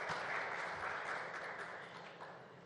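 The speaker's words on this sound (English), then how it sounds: "A big round of applause again," Audience applause at a day of the India Today Conclave South 2023, a dense steady wash of clapping that holds fairly even and tapers slightly toward the end, quiet and somewhat distant.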